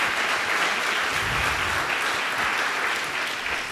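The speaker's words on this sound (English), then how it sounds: "give them some applause" An audience at a production designer's talk applauds the people on stage, a full, steady roar of clapping that holds at constant strength and eases slightly near the end.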